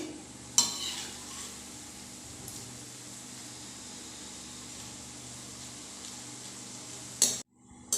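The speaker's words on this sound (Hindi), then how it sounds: "तीन से 4 मिनट तक लो टू मीडियम फ्लेम के ऊपर फ्राई करने के बाद हम इसे पलट देंगे।" A rice flour snack frying on a low to medium flame gives a low, even sizzle with a background hum, and a couple of sharp utensil clinks land at the start and near the end.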